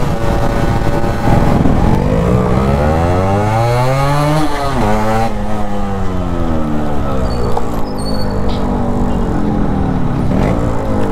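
A restored stock Yamaha RX-Z two-stroke motorcycle runs flat out toward top speed, its close, loud engine note climbing in pitch through repeated gear shifts against wind rush.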